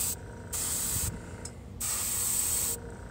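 Two long bursts of airbrush spray hiss at 20 PSI, bright orange paint on a Gunpla model kit, steady and close, separated by short pauses, with no voices.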